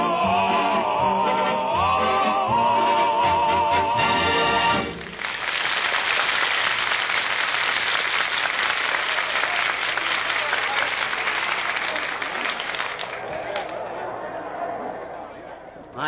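Applause from a large crowd at a radio comedy broadcast, starting under music and then swelling into a steady, loud wash of clapping that slowly fades toward the end.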